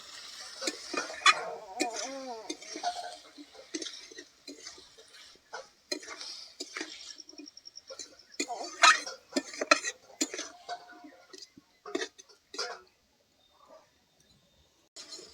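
Spiced tomato masala with ground coriander, dried chili and cumin being stirred in a pan for a katla fish and kochur loti dish: intermittent scraping and metallic clinks in uneven bursts, with a brief faint voice near the start.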